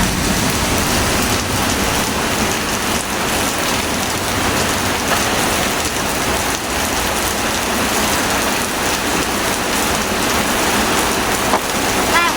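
Heavy rain pours down in a dense, loud, unbroken hiss that fills the whole stretch evenly, with no clear voices above it.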